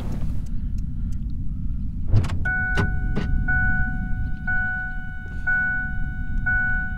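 A car in an accident simulation game set on a cliffside emergency scenario idles as a low, steady rumble throughout, with a few brief clicks and a repeating electronic beep tone layered over it.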